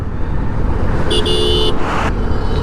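A scooter rides along a road in Narsingdi, Bangladesh, with steady road and engine rumble; a passing car horn toots twice in the middle.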